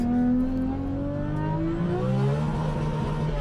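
A 1239 bhp Toyota Supra at high speed, its engine note climbing steadily in a loud, close, continuous whine and roar of hard acceleration, with wind noise and no talking.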